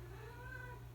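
A mother cat gives a soft, short meow toward her kittens, faint and close, over a low steady background hum.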